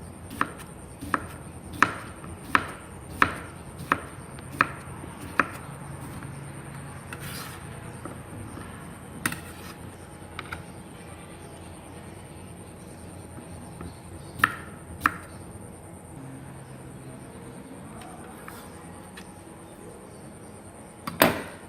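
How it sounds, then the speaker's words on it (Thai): A knife slices cucumber on a board with a quick series of sharp, regular chops, then fewer scattered cuts and quiet handling. "เราก็มาหั่นแตงกวาเป็นชิ้นๆ"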